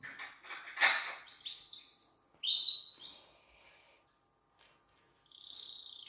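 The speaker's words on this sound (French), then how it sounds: "c'est un gris du Gabon" An African grey parrot calls close by, giving a series of sharp whistles, squawks and chirps with short pauses between them, then a longer warbling whistle near the end.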